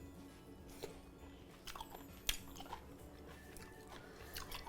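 Someone chewing braised abalone with a crunchy texture, soft close bites and crunches spread across a few seconds, very quiet.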